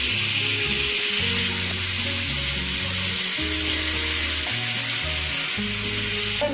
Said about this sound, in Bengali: আমি সাজিয়ে প্যানের মধ্যে চিকেনগুলো দিয়েছি।